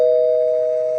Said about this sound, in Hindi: प्रियंका के घर की घंटी बजती है।